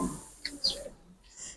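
Pigeons of the Teddy and Aliwala breeds, Pakistani import bloodline, give soft, brief coos and chirps, faint and close, with short calls scattered over a quiet background.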